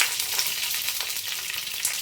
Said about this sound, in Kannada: ಈಗ ಚಿಟಪಟ ಅಂತ ಸೌಂಡ್ ಬರ್ತಿದೆ